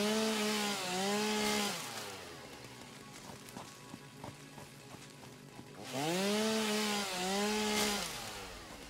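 A chainsaw in the video game Satisfactory clears brush in two revving bursts at the start and near the end, each rising and falling in pitch, with quieter clicks and crackles between them.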